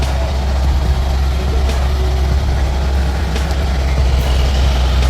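A heavy, loaded logging truck grinds up the steep Hai Van Pass, its engine a loud, steady low rumble that holds without a break under faint traffic noise.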